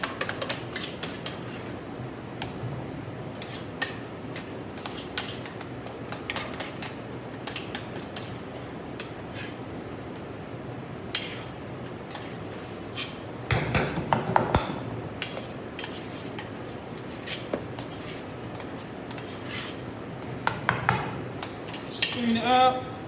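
Metal spoon scraping and scooping salmon mousse from a bowl, with scattered sharp clinks and scrapes against the dish over a quiet background, a few busier clattering bursts partway through.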